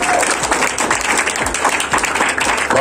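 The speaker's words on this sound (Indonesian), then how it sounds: "Sekali lagi tepuk tangan." Audience at the El Safan foundation event applauds loudly and steadily, dense clapping filling the whole stretch with a few brighter individual claps standing out and faint voices mixed underneath.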